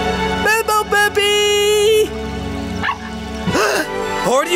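Cartoon puppy from an animated children's show yipping and barking in short, bright bursts, with whimpering tones mixed with music and a voice calling out.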